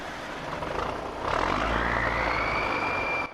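A 160-horsepower mower truck engine turns over and catches, its noise rising abruptly and settling into a loud running roar with a climbing whine, then cutting off sharply at the end.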